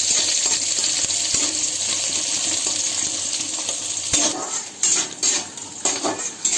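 A spoon stirs through hot oil in a pan, a steady broadband hiss of sizzling with sharper metallic scrapes and clinks near the end, close and fairly loud with no talking.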